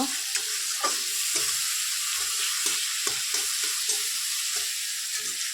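Masala spice paste fries in hot oil for a rohu fish curry, a continuous hiss of sizzling with rhythmic scraping strokes of a spatula stirring the paste.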